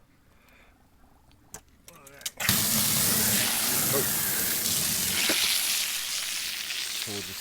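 Water gushing steadily into a duck's bathtub, a loud continuous rushing hiss that starts suddenly after a few light clanks and a brief exclamation.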